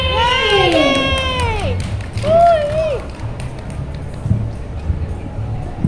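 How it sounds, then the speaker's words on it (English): A crowd at an Earth Hour performance in a shopping mall cheers with high shrill children's shouts, followed by scattered clapping and crowd noise echoing in the large indoor space. "So, let's give a big clap to Amy!"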